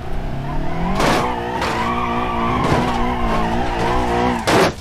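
A car drifting in the BeamMP driving game, its engine roaring steadily as long, wavering tire squeals rise and fall over several seconds, loud and close, with a harsh burst near the end.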